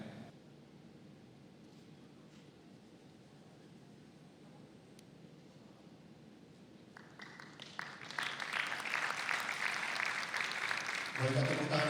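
Audience applause rises at a church organisation's opening ceremony for its 2022 national working meeting, starting after a stretch of talk and swelling into steady, fairly loud clapping over the last few seconds.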